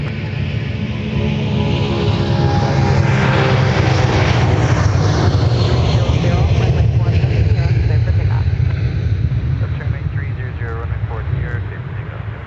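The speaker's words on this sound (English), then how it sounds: "Here comes our 757." A Boeing 757 airliner approaching Minneapolis–St. Paul airport, a loud, steady jet engine roar that swells and holds close by, with a voice talking over it.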